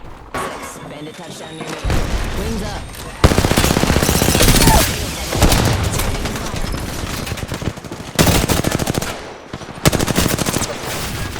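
Sheila minigun fire in the shooter Apex Legends, long heavy bursts of rapid rounds with short pauses between, loud and close, while a player talks over the fighting.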